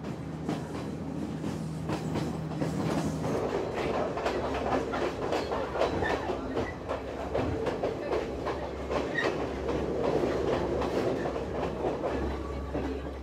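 A passenger train travels through Sri Lanka, well away from Colombo, with continuous rumbling and rhythmic clickety-clack of wheels over rail joints, heard close from inside the carriage throughout.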